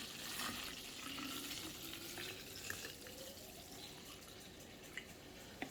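Steady rushing pour of water into a bottle, with a faint rising gurgle as it fills and a few small clicks near the end.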